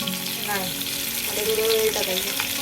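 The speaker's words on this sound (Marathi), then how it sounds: "थोडा टाईम अजून फ्राय करणार" Brinjal (eggplant) frying in a pan, a continuous close hiss and crackle of hot oil with a brief tonal whine, no talking.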